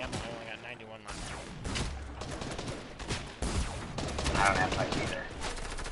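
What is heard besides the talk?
gunfire in the video game Fortnite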